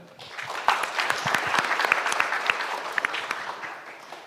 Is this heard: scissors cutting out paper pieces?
no